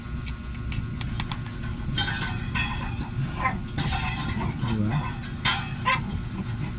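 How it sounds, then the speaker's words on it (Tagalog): Dogs knock a food bowl around, making repeated clinks and clatters, with occasional dog noises and a brief spoken word nearby. "Nilalaro-laro na nila yung kanilang lagayan ng pagkain."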